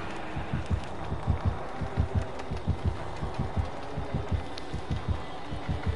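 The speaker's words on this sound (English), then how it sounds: "I hear the heartbeats" A video game heartbeat thumps steadily in low double beats, loud and rhythmic throughout, with a faint background hum and no talking.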